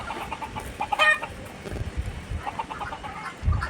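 Native hens cluck and murmur nearby on a goat farm, with one brief higher squawk, over a soft outdoor background.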